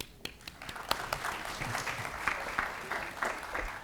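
Audience applause at a university opening ceremony for International Education Week, welcoming a guest keynote speaker: steady, dense clapping from a sizable crowd indoors, sustained throughout.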